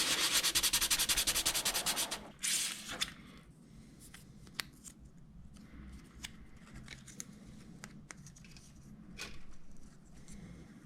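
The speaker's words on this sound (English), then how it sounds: "We can remove it by sanding the surface flat" Rapid rhythmic rasping of sanding a plastic part of a 1:32 scale MiG-3 model flat, dense at first, then giving way to sparse scratches and small clicks, close and fairly quiet.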